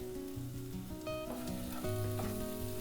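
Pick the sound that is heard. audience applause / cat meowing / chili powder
chili powder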